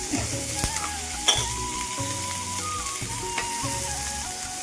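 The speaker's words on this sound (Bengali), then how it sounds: "তেলে এটা ভাজি, আর একটু তেল লাগবে, কড়াইয়ে তেলটা কম হয়ে গেছে" Fish head frying in oil in a wok for a Bengali muri ghonto, with a steady close sizzle throughout and a few sharp clinks of a utensil against the pan.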